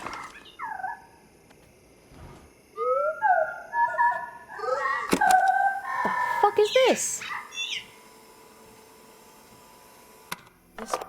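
Bird calls in a video game set in a valley, a run of warbling, chirping and clucking notes in short bursts over a quiet background, fairly close, with a brief spoken remark among them.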